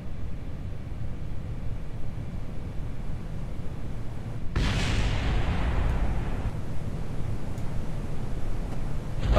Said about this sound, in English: I think those explosions are my engines hitting the ground after I've decoupled them.